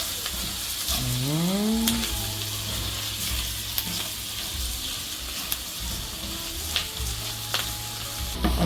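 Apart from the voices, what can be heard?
sautéing garlic and onion over high fire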